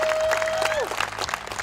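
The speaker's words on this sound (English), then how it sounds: "round of applause for all of our young people that are here today" Young people being applauded at a youth crime program graduation night, a crowd clapping throughout while a sustained tone fades out early on.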